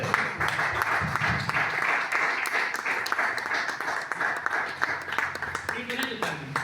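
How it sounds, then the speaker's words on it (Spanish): A church congregation at a men's congress breaks into sustained, dense applause that fills the room at close range, with voices mixed in beneath the clapping throughout. "y den un fuerte aplauso."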